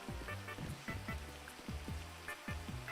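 Rain falling in a GTA V roleplay game, a steady hiss of drops on surfaces, with repeated low swooping tones pulsing underneath throughout.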